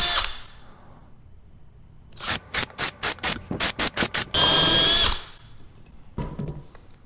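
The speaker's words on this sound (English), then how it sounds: "I have one of those countersink things, so I'm just gonna go ahead, while I'm making a mess," A power drill fitted with a countersink bit bores recesses for screw heads, with a short whir, a rapid series of eight or so quick trigger bursts, one longer sustained run, then a rougher final burst, all close and loud.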